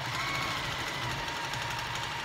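A sewing machine sews a dart on a fabric bowl cozy, a steady close mechanical hum with rapid even needle chatter throughout.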